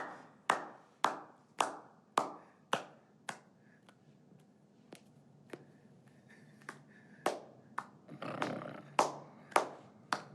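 Single sharp hand claps ring out close by in an irregular series, some quick and evenly spaced, others after longer pauses, with faint voices and murmuring in between.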